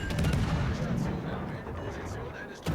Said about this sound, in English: He's shooting us.